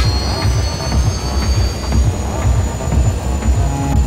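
A jet airplane taking off in the video game Just Cause 2: a loud, steady engine roar with a deep pulsing rumble and a thin high whine above it, continuous and alone with no talking.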